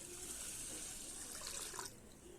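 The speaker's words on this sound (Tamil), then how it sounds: "இப்போது இந்த அரிசி முழுகிற அளவுக்கு நம்ம நல்ல தண்ணி ஊற்றிக்கலாம்." Tap water pours steadily over washed rice in a pot to cover it for soaking, a continuous close hiss and trickle that eases off near the end.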